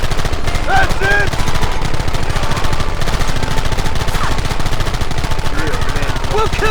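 Rapid, dense gunfire rattles almost nonstop in a Red Dead Redemption firefight, loud and close with overlapping shots, while shouted voices break through the shooting.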